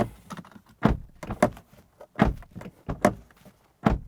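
A 2023 Polestar 2 car door being shut with solid, muffled thunks, several heavy knocks and clicks in quick succession, close and fairly loud, no talking.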